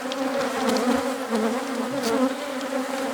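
Angry honeybees swarm close around a newly set hive after the queen is moved, a dense, steady, loud buzzing with no voices.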